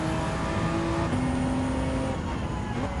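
A Toyota GR Yaris races in Gran Turismo 7 on the Japanese 4WD Challenge, its engine holding a steady loud drone with a tone that shifts slightly, close and continuous, with no talk over it.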